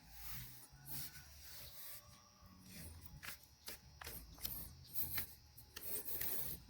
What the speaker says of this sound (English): rub it to make sure it's all the way down in there